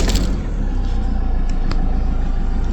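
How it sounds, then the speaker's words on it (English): A vehicle engine runs right after its swollen, acid-leaking starter battery was replaced, a loud, close, steady rumble that continues throughout once it has fired up. "Fantastic, fires up first time."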